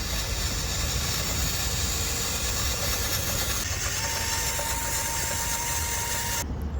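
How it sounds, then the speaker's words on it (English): An Absima CR18 Pro 1/18 scale rock van RC car runs at full throttle, its small motor and gears giving a steady, busy whine that holds constant for several seconds before cutting off abruptly near the end. "let's see what it's like on full throttle."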